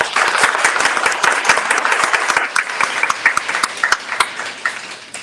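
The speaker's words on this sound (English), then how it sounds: "Give her a round of applause." A room at a board meeting breaks into steady applause for a newly chosen board president, dense clapping from a modest crowd that holds fairly even and thins slightly toward the end.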